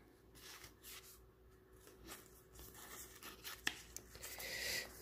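Playing cards handled on a craft project page, a faint papery shuffle and rustle running throughout, with a couple of crisp soft snaps near the end, quiet and close with no talk.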